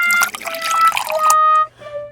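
Water drips and trickles in a flooded kitchen, loud and close, with splashy liquid bursts and ringing tones before it drops away to a few faint drips.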